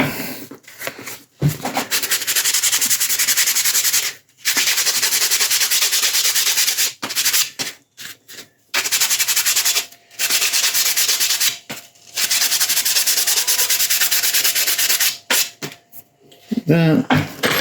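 Hand sanding scuffs up a surface in long continuous rubbing passes broken by short pauses, close and fairly loud, with a few faint clicks near the end.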